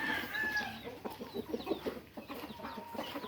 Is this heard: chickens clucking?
yes